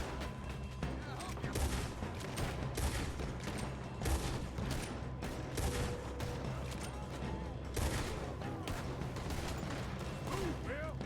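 A gunfight in the Western game Red Dead Redemption 2, with dense bursts of rifle and pistol shots cracking in rapid, overlapping volleys against a loud battle ambience, with shouting voices mixed in.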